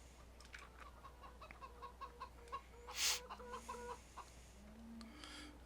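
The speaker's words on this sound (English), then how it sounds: "So we've got free-range chickens around the farm." Free-range chickens on a farm in the Farming Simulator 17 video game, GreenRiver 2017 map, clucking softly and intermittently over a steady ambient background hum, with one brief louder squawk midway.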